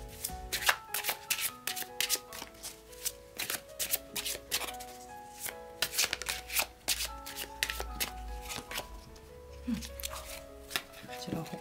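Oracle cards being shuffled by hand, a steady run of crisp riffling and flicking snaps close up over soft background music, lasting throughout.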